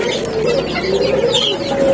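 Soft repeated cooing from a captive puter (island collared dove) kept at home, a low rounded call pulsing steadily and close by with no talk over it.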